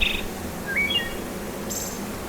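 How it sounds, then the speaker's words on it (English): A wood thrush sings from a nearby tree outdoors, giving several clear, fluting phrases spaced apart over a steady low background hiss, with no voices. "I hear a wood thrush"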